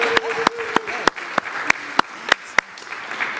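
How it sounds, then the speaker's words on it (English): Rhythmic, evenly spaced claps at a Unity San Francisco church service, about ten sharp hand claps over a soft background of voices and tone, fairly close and moderately loud. "Can we have a round of applause for that?"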